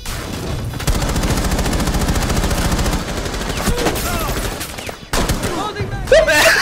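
Sustained bursts of loud machine gun fire in the video game Rainbow Six Siege, a rapid steady stream of shots that pauses briefly near the end, with a player talking over it.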